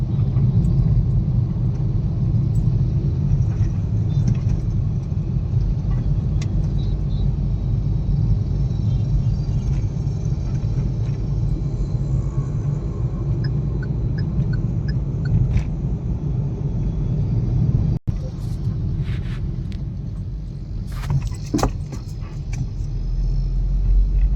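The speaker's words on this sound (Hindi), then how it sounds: "ये जो आवाज़ है ये टायर, आगे का टायर या पीछे के टायर से आ रही है" A steady low car rumble runs throughout with a faint repetitive scraping rhythm from a tyre or rear shock absorber, heard close, with a sharp click and some rattling near the end.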